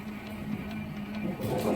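A fiber connector polishing machine runs on a 30-second cycle, working SC connectors against polishing film with a steady mechanical whir and low hum, close and continuous, with faint voices in the background.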